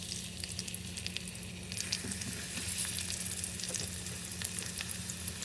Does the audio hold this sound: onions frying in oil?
yes